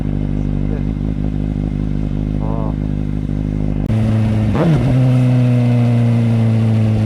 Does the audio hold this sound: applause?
no